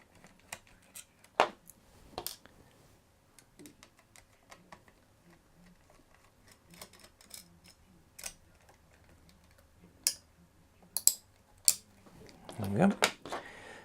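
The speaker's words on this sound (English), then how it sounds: "Undo these two screws." A screwdriver works two small screws out of a Game Boy case, producing sparse clicks and ticks spread irregularly over quiet, with a louder rustle near the end.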